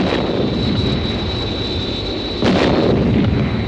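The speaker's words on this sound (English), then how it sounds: "They may try ground-to-air missiles." A Supermarionation-style TV sound effect of ground-to-air missiles: a steady loud roar with a high whine, then a sharp explosive burst near the end.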